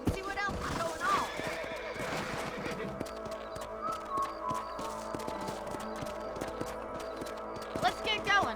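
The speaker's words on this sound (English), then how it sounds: "Let's get back on the horses and see what else is going on." A horse whinnies loudly near the start and again at the end in the video game Red Dead Redemption, with hoofbeats clopping and voices talking underneath throughout.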